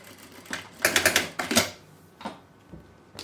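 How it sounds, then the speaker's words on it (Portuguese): A sewing machine backstitches over a seam to reinforce it on a braided fabric bag, giving a quick burst of close, rapid mechanical clatter followed by a few fainter ticks. "eu vou e volto fazendo retrocesso. Ó, vou passar em cima do outro gordinho e faço um retrocesso pra reforçar essa costura"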